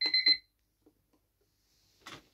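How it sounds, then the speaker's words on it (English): An alarm clock beeps in two quick bursts at the start, near and fairly faint, then the room stays quiet until a brief rustle near the end. "pressing the button to stop the alarm from beeping."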